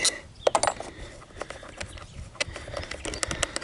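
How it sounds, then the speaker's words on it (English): Bolts being worked loose from the seat of a Yamaha Blaster quad, with scattered close metallic clicks and small tool taps in an uneven rhythm, fairly quiet and with no talking. "Take these 4 bolts out."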